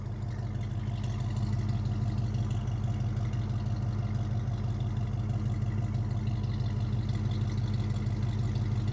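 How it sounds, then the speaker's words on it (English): A 1963 Ford Falcon restomod with a 302 V8 idling, its exhaust giving a steady, loud, deep rumble with an even throb that holds unchanged throughout, close by and with no talking. "I'm gonna let you listen to the exhaust here."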